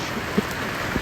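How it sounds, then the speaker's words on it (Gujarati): Heavy monsoon rain pouring steadily as a dense, even hiss, with a couple of faint drips or taps standing out briefly. "જોરદાર આવે વરસાદ, જોરદાર વરસી."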